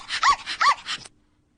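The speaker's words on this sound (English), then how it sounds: "you've got one of those irritating yappy dogs" A small dog gives quick, high-pitched yappy barks, about four in rapid succession, close and bright, then stops abruptly into silence.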